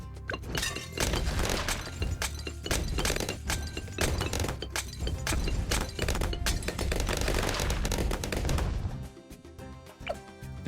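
Towers in the video game Bloons TD 6 unleash rapid, dense gunfire, a near-continuous stream of loud sharp shots and impacts that thins out and fades near the end.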